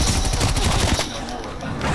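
Gunfire in Call of Duty: Black Ops Cold War on the Firebase Z map, a dense burst of rapid shots for about a second, then dropping to a quieter, rumbling background.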